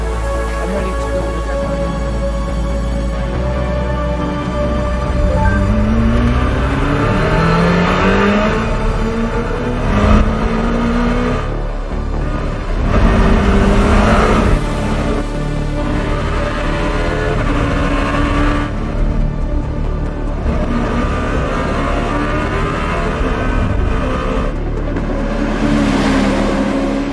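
A Czinger 21C race car accelerates hard out of a corner at Laguna Seca, its engine note climbing through rising gear sweeps, loud and continuous, with up-shifts breaking the rise.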